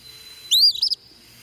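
A single short recorded bird call plays from a bird identification app, one bright chirp followed by a quick stuttering trill, clear over a quiet background.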